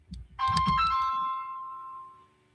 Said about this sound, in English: Damn, all my phone blowing up now. I don't want to answer that.